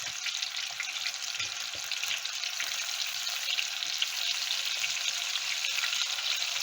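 Battered chicken strips deep frying in a pot of oil, giving a steady, dense hiss of bubbling sizzle that holds evenly throughout at moderate loudness.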